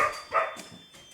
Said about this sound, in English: Dogs get excited.